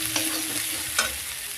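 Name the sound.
spices with turmeric being stirred and fried in a pan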